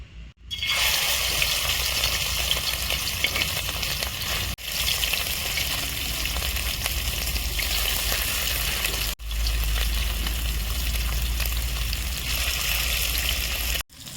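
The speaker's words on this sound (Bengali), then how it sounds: "আমার তেলটা হিট হয়ে গেছে। এখন আমি বড়াটা ভেজে নেব।" Fish roe fritters mixed with chopped onion and salt sizzle steadily in hot oil, a loud, continuous crackling fry that runs unbroken for the whole stretch, with no talking.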